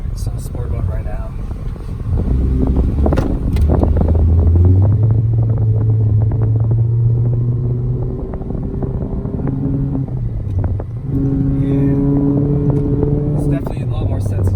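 A 2013 Honda Accord Sport accelerates on a highway in sport mode, its engine droning and rising in pitch, dropping briefly at a shift, then climbing again. It sounds loud from inside the cabin, with road rumble and someone talking.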